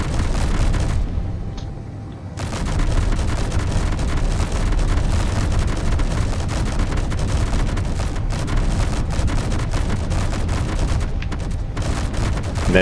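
Auto cannons fire in Space Engineers, a dense, continuous barrage of rapid booming shots that stays loud for the whole stretch, with a brief lull near the start.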